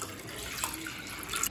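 Water pours and splashes into a vessel of washed split moong dal for cooking, making a steady close bubbling flow with a few bright splashy bursts toward the end.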